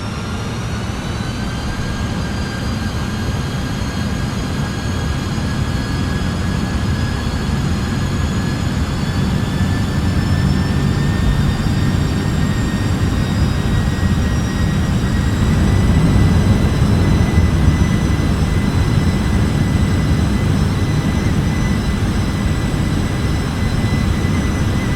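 An MD-11 three-engine jet in MSFS 2024 climbs after takeoff with a steady, powerful roar and sustained whining turbine tones that rise slightly, loud and unbroken for the whole stretch, with no talking.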